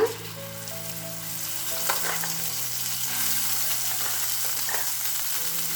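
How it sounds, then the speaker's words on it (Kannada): Spice paste frying in oil in a pan on the stove, a steady loud sizzle with stirring scrapes throughout, no voices. "ಇದು ಒಂದು ನಿಮಿಷ ನಾವು ಈ ಥರ ಎಣ್ಣೆಯಲ್ಲಿ ಹುರ್ಕೊಳ್ಳೋಣ"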